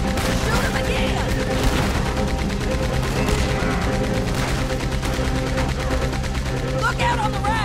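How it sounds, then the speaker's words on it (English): Rapid gunfire fills the whole stretch, with dense bursts of shots aimed at a person amid loud, continuous battle noise, while voices shout underneath. "Shoot him again!"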